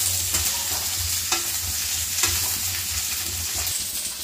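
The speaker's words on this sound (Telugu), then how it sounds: "ఆ ముక్కలు వేసుకోవాలి. బాగా మగ్గించుకోవాలి." Chopped cabbage fries in a hot pan for a cabbage chutney, a steady sizzle broken by repeated scraping stirs of the spatula, close and fairly loud with no talking.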